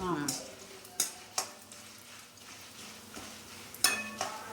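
Dried red chillies and peanuts are roasted in a pan: a spoon scrapes and knocks against the metal in irregular strokes over a low, steady sizzle, close and moderately loud.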